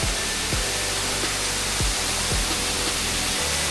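Nalagana Ella waterfall, flowing lightly in low water, gives a constant broadband rushing roar, heard steady and fairly loud with occasional low thumps beneath.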